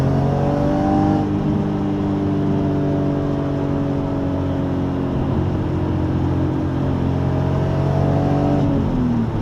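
A BMW E46 M3 exhaust snarls as the engine accelerates hard, a steady rising drone with a gear change partway through, loud and close.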